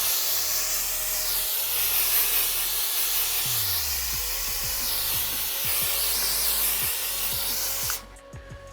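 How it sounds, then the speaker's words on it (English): Texture sprayer blasting wall texture onto drywall, a loud continuous hissing spray that holds steady for several seconds, then cuts off abruptly near the end. "I kind of stand back here, start spraying, and then move it over real quick."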